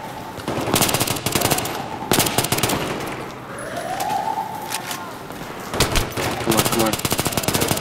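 Rapid automatic gunfire in the video game Battlefield 3 rattles out in several loud bursts separated by brief pauses, with a voice speaking briefly between shots.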